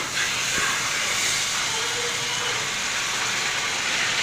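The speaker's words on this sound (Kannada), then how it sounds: "ಈಗ ಕರಗ್ತಾ ಇದೆ ಬೆಣ್ಣೆ." Butter sizzles and hisses as it melts in a pan for homemade ghee, a steady, close, frying hiss with no voices over it.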